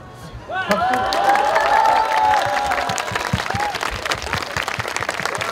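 Audience at an emergency public debate breaks into warm applause, a broad crowd of clapping that swells and holds, then thins into scattered claps, with a voice over it.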